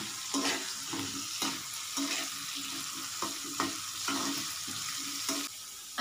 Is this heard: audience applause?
no